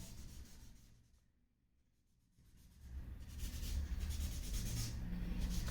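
Pencil graphite rubbing across paper while darkening the edges of a horse drawing, a close, soft scratchy rasp that fades to near silence midway and then returns steadier and louder.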